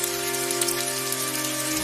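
Rain falls steadily, a continuous dense patter of drops on surfaces that stays even and fairly loud throughout, with no voices.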